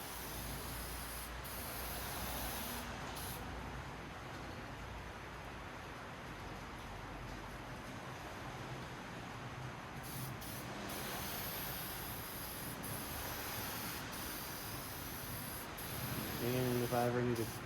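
Steel-It paint sprays steadily onto a vehicle frame during a drivetrain and frame build, a continuous hissing aerosol stream with brief pauses, close and fairly loud throughout.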